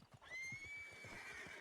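A horse in a roleplay video game gives a single high whinny that rises and holds, with soft clip-clopping hooves underneath, fairly faint and without any talk.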